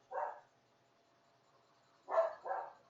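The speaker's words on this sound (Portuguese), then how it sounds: "Meu cachorro resolveu latir agora." A dog barks three times, a single bark followed after a pause by a quick double bark, moderately close with a quiet background.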